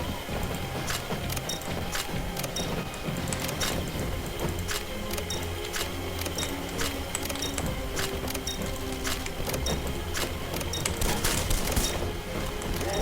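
Rapid gunfire in the video game Red Faction Guerrilla, with steady rattling bursts of shots continuing throughout over a dense background of game noise.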